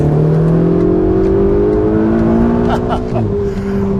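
A loud, close Ferrari 488 GTB engine revs and climbs steadily in pitch as the car accelerates, holding a strong, continuous roar throughout.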